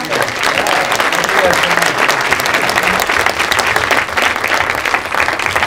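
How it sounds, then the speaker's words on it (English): Loud sustained applause from the audience at a producers panel with the Chicago Fire co-creator, thick continuous clapping with a voice faintly mixed in underneath. "That was pretty good clapping"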